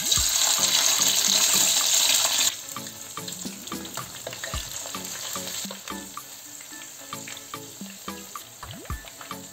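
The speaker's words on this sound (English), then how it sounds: "The turkey is ready, let's go ahead and fry it." Turkey pieces frying in hot vegetable oil in a saucepan give a loud, dense sizzle that settles after a couple of seconds into a steadier crackle with scattered pops and a few clinks, close by and with no talking.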